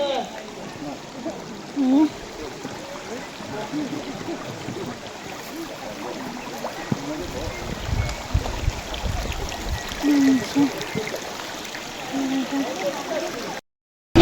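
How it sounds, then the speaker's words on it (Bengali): Waterfall water rushes down a stream near Mawlynnong village in Meghalaya, a constant broadband flow heard close by with faint voices now and then. "এখানটা দিয়ে তোমার ঝর্ণার জলগুলো আসছে"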